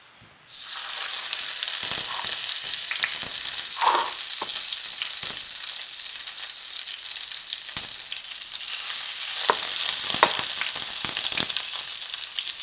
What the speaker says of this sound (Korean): 두부가 구워지는 소리가